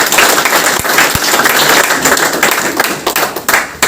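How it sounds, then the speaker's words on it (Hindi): An audience at an event honouring an MP breaks into loud, sustained applause to welcome a guest. Dense clapping from many hands fills the room without a break. "प्लीज जोरदार तालियों से पूरे साहब का स्वागत है।"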